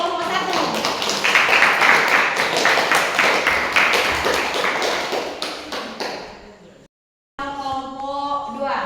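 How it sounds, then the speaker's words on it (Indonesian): Applause from a classroom of students for a presentation group, a dense, loud burst of rapid hand clapping that lasts several seconds and then fades, followed by a pause and then a voice. "Tepuk tangan untuk kelompok 1."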